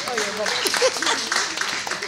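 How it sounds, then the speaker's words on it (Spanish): Audience applause breaks out in a studio talk show setting, a dense wash of clapping over about two seconds, moderately loud and steady with voices mixed in underneath. "Un fuerte aplauso para ellos"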